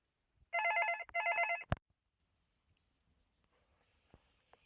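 A telephone rings with two short electronic bursts, near and clear, followed by a click and near silence with faint rustling.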